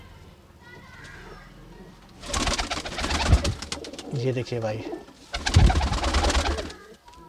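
Pigeons, including a wild one, coo in soft, throaty rolls, with someone speaking briefly over them and children's voices in the background.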